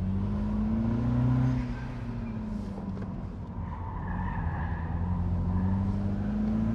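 A 2023 Mini Cooper S Cabriolet on Hankook tires squeals through bends on a twisty mountain road, with sustained wavering tire screech over the engine's drone, loud and close throughout.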